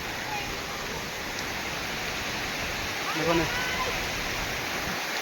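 Water overflowing at a spillway rushes with a constant broad hiss, steady and fairly near, while someone briefly speaks over it.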